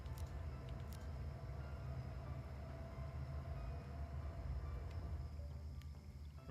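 Train rumbling past in the Hello Kitty Island Adventure video game, a low continuous rolling rumble with faint clanks, fairly quiet and steady throughout.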